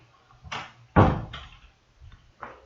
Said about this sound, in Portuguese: Só baixar a porta aqui.